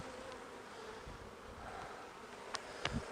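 A busy overwintered honey bee hive filled with nectar, giving a continuous low buzzing drone at close range, fairly quiet, with a couple of brief clicks near the end.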